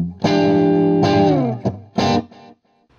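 Overdriven electric guitar through a Metropoulos custom amp rings out in a few loud, sustained chords with a gritty distorted tone, each chord left to ring and fade before a short final stab and silence.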